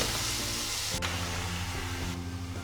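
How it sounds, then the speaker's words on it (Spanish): Finely chopped onion sautéing in oil in a frying pan, giving a steady close sizzle and hiss with a brief stir or clack partway through. "En esta misma sartén voy a sofreír la cebolla que, como ves, he picado bien fina"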